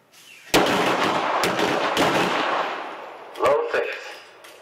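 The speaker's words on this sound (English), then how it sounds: "4 rounds in 3 seconds." Handgun shots at a police qualification course, a fast volley of sharp, echoing reports followed after a pause by a couple more, fairly close and loud on an outdoor range.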